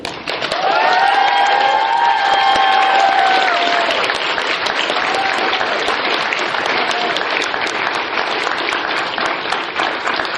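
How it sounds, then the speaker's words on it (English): Loud, sustained audience applause and cheering fill a hall at an anime convention, dense clapping continuing steadily throughout, with brief whistles or shouts rising near the start. "a big round of applause to Crystal."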